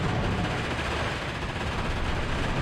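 Submachine guns fire on the move during a WW2 battle in the strategy game Steel Division 2, a distant, fairly faint rattle of dense, continuous bursts with no voices.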